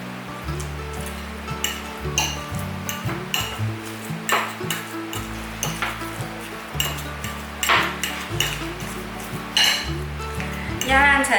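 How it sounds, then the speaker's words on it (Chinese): Steamed sweet potato seasoned with black and white pepper and rose salt is mashed with a fork in a bowl, giving repeated soft squelches and clinking taps of metal on dish, close and uneven, with voice heard at points. "用叉子把地瓜压烂"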